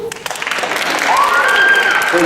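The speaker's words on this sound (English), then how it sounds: "Hold your applause, please." Audience applause at a government debate, a dense wash of clapping that builds and holds loud through the whole short stretch, with a rising whistle-like tone cutting through the second half.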